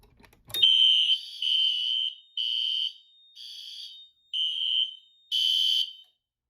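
A Notifier SFP-1024 fire alarm panel sounds a loud, piercing electronic tone in six close bursts of uneven length, each separated by a brief silence, with no talking.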